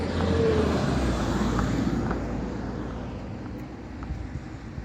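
Dodge Challenger SRT 392 with a six-speed manual gearbox driving on a street, a steady low engine drone that is loudest at the start and eases off slightly, with no talking.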